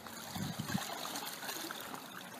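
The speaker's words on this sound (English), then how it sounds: "there's a stream of air bubbles coming out of the mattress where the hole's located" Air bubbles escape from a pinhole leak in a sleeping pad held under water, giving a soft, continuous bubbling and trickling wash that stays faint and steady, with no talking.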